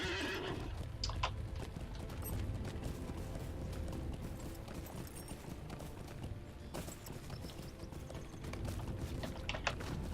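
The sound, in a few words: horse neighing and hooves clip-clopping in Lord of the Rings Online video game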